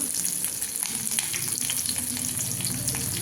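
Whole spices, cardamom, cinnamon and fennel, sauté in a hot pan for chicken kola urundai, making a dense, steady, close sizzle with faint stirring scrapes and no voices.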